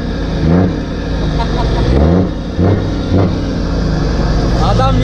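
A Scania truck with an open exhaust revs in loud, surging bursts, its deep engine rising and falling in several pulses close by while voices talk over it.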